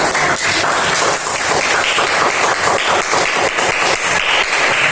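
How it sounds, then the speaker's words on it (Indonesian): Classroom of students claps hands in a loud, close, continuous burst of applause, fast overlapping claps at a steady level throughout, with no talking. "Tepuk tangan dulu buat."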